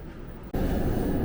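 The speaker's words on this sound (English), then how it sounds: "it's a busy morning with the trains today for KL Central" Commuter train at KL Sentral station in Kuala Lumpur, a loud, steady rumble of rolling carriages that surges abruptly midway and holds close and continuous.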